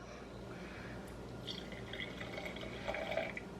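Two shots of espresso are poured into a homemade iced vanilla drink, giving a soft, faint liquid trickle and splash that runs steadily for a few seconds and is heard alone.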